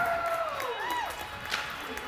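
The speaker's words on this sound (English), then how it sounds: "boys in red are cheering." Ice hockey fans cheer at a distance after a goal, a diffuse crowd roar with whistle-like tones, heard faintly behind a commentator talking.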